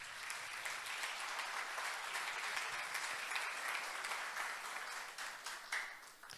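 A church congregation gives a sustained round of applause during a sermon. Many hands clap in a dense, continuous stream that holds steady, then loosens near the end with a few louder individual claps.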